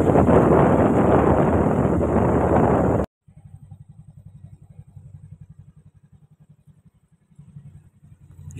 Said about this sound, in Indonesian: Mungkin sekitar 80-an derajat, ini sampai ngeden-ngeden nih motornya